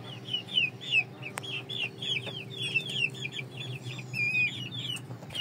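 Ganoi Saigon supergreen and shamo chickens kept as breeders and hens cluck and chirp in a steady run of short calls, fairly close, over a low background hum.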